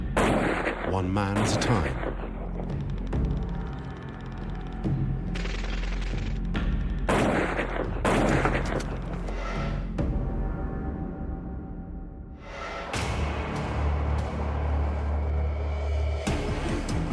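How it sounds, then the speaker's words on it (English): A heavy long-range sniper rifle fires several loud, booming shots in a combat setting, spaced apart with echoing tails. Someone speaks between the shots. "A heavy long-range sniper rifle that can take out a target nearly 2 kilometers away."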